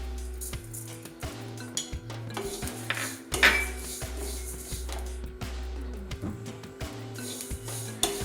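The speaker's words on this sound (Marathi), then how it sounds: "आपण आता हे कारळा भाजून घेणार आहे" Niger seeds (karale) dry-roasting in a pan over medium gas, with steady clinks and scrapes of a spoon against the metal and a brief louder clatter partway through, close and fairly quiet.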